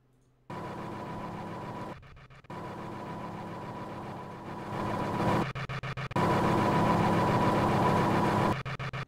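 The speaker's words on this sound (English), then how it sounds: "that's a very stupid engine sound" A vehicle engine in a modded war video game set in trench warfare, running steadily with a droning mid-pitched hum and buzzing tone that cuts out briefly several times, then resumes louder near the end.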